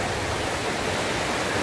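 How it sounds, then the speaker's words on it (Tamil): Steady rushing of a stream flowing over rocks near Pechiparai Dam in Kanyakumari, a continuous broadband wash heard up close with no pauses or voices. "ஆக்சுவலா மேல தண்ணி ஓடிட்டு இருக்கு."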